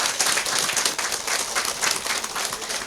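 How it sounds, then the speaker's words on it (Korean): Dense audience applause at a Buddhist dharma service welcoming a dharma teacher, a short, loud, continuous burst of many hands clapping together. "법사님께 큰 박수로 맞이해 주시기 바랍니다"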